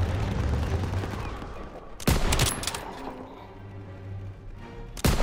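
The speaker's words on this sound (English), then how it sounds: "They're taking fire from behind." Gunfire in the World War II shooter game Call of Duty: WWII, with a dense rattle of shots at the start and then two sharp, loud bursts. Quieter battle noise fills the gaps between them.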